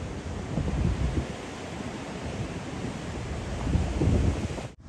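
Ocean surf near Venice Beach rolls in under strong wind buffeting the microphone, a loud continuous roar swelling in waves, ending abruptly.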